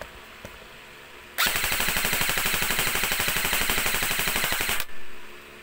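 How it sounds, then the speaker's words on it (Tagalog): A rapid full-auto burst from an E&C 624 M4 CQBR airsoft rifle fitted with a suppressor, sharp evenly spaced cracks lasting about three seconds, loud and close, then stopping abruptly. "Ang lakas ng putok nito."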